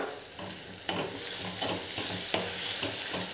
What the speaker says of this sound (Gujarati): આને પણ આપણે 5 કે 7 મિનિટ સુધી શેકાવા દઈશું.